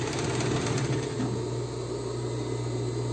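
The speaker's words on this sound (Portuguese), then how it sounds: "Minhas agulhas tá precisando trocar, gente. Chega tá estralando." Sewing machine running steadily while topstitching a plus-size panty, with a worn needle in need of replacing; the motor hums continuously and loud with no pauses.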